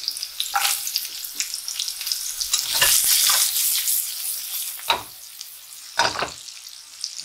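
Garlic and baby carrot sizzle in hot oil for a Chinese pork stir fry, with loud bursts of frying hiss that swell and fade as ingredients drop in and get tossed, close and without voices.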